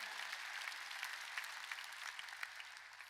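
A church congregation applauding during a Sunday worship service, a dense, even patter of many clapping hands sustained throughout, moderately distant and fairly quiet.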